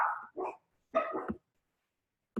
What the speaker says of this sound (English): hopefully the dogs barking don't bother you